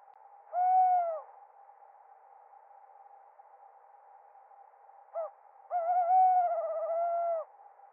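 Two drawn-out tawny owl hoots in a quiet night, separated by a pause and a short note, with a steady faint tone underneath.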